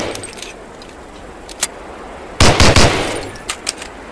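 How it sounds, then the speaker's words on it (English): Colt .45 pistol shots fired at a target in the World War II shooter Medal of Honor: Allied Assault, a fast cluster of sharp bangs with a few scattered, quieter clicks and reports before and after. "Fire a couple shots on that target with your 45"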